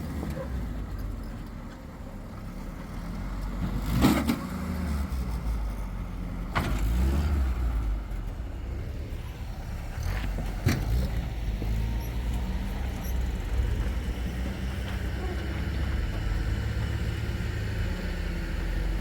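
An antique 4x4 Jeep crawls over the rocky Moab Rim trail during Easter Jeep Safari, a low, steady engine rumble with occasional thumps and clunks as the vehicle climbs, sounding close and continuous.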